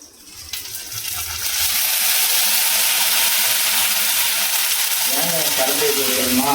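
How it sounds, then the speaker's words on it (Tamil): Tamarind rasam is poured in a steady, rushing stream that swells and holds for several seconds at close range. A voice briefly surfaces near the end. "இப்போ நம்ம புளி ரசம் ஊற்றிக்கலாம்."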